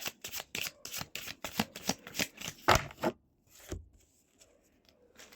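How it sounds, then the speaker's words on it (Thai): Tarot cards riffled and shuffled by hand in a series of quick, close, crisp bursts, then a few softer shuffles and taps trailing off into quiet. "ไพ่ยิปซี แรนดอมคลิปนี้ไพ่อยากจะบอกอะไรคะ"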